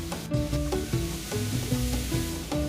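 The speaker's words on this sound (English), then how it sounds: "Sauté them for 4 to 5 minutes until they turn tender and slightly charred." Vegetables sautéed in a hot pan, sizzling steadily with stirring and scraping throughout, close and continuous, with no talking.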